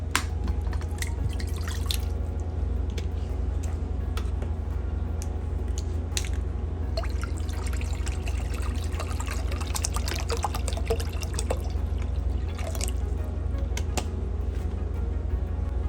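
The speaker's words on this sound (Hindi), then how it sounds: "ये बाउल मैंने लिया है, अब इसके अंदर मैं डालूंगी पानी।" Water poured into a bowl in a home kitchen while preparing tamarind water for pani phulki, heard as a steady close trickle with scattered drips and splashes over a constant low hum.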